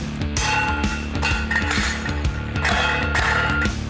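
Glass bottles clink and smash in a repeated rhythm nearby, sharp bright crashes over a steady mechanical thumping, recreating an accident at a glass bottle factory.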